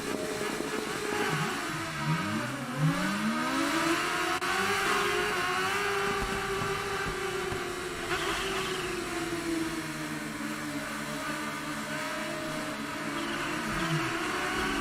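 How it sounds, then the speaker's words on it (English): A motorcycle exhaust roars in the Ride 4 racing video game, a steady loud engine drone with repeated rising and falling revs as the bike shifts through gears, continuous across the whole stretch without talk. "the exhaust is crazy!"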